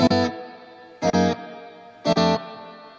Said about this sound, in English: I designed that reverb in a way that it's also nice, in a way that the guitar is always in front of the reverb